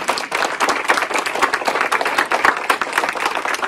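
Lively clapping from a crowd at the inauguration of the Lycée Queinnec school shop in Malestroit: close, continuous and busy applause with individual sharp claps standing out throughout.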